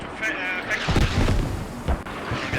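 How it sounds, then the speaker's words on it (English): Mortar rounds from an incoming barrage in the Squad video game thud and boom in a loose, irregular series of heavy impacts, mixed under steady commentary talk. "as they capitalize on the incoming mortar barrage"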